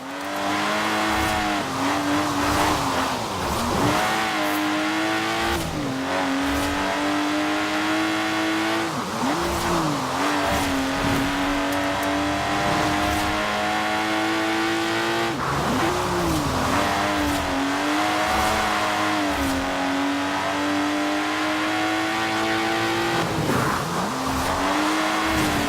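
Lotus car in Forza Horizon 4: the engine revs hard and climbs through gears, with pitch dips at each shift and cornering tire squeal, loud and close throughout.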